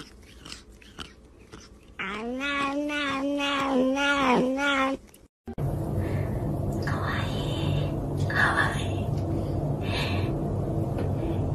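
A cat meows in a run of loud, drawn-out, wavering calls close to the microphone. Quieter scuffling and background noise follow the calls.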